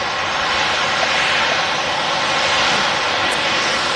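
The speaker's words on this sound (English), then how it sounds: "This Ryanair 737 is in from Sweden, Gothenburg" A Ryanair Boeing 737 jet airliner arriving from Gothenburg at Manchester Airport gives a steady, moderately loud broadband roar of jet engines that holds even throughout, with no voices.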